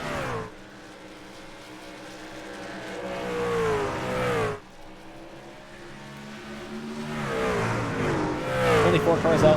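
Dirt race trucks roaring around the Eldora oval track during a small four-truck heat, engines rising and falling in pitch as they pass, with an announcer talking over the action.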